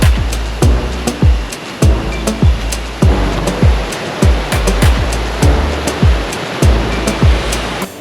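River water rushing steadily near a cave in an inactive volcano in Zacapa, Santa Bárbara, Honduras, with repeated louder surges and splashes over a continuous close wash.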